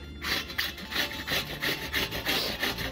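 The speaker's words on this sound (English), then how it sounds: "About to grate up an onion with this." An onion grated on a handheld grater while making a meatball sub, with steady, rhythmic rasping strokes close up, about three per second, and no talking.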